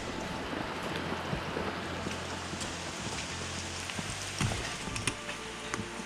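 Steady rain falling in the Amazon forest, a soft even hiss of drops on leaves with a few louder close patters, faint and continuous throughout.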